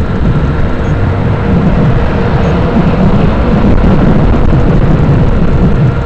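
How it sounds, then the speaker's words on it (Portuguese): Strong wind buffeting a motorcycle at speed on the Fernão Dias highway, a dense continuous roar and rush of air, loud and steady with no voices. "Meu Deus, que vento é esse?"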